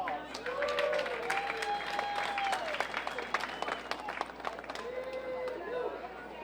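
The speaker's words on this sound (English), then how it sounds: "Let's give him a round of applause." Applause for the day's champion at a 4-H fair poultry show: a crowd claps steadily for several seconds, with a voice speaking over it and roosters crowing faintly in the hall.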